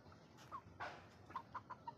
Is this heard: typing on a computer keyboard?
no